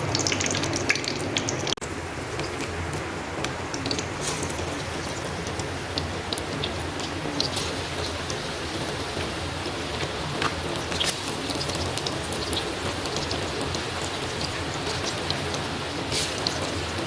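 Kadhi bubbles and sizzles in a very hot handi pot, a steady crackling, spattering boil that runs continuously at close range with no talking.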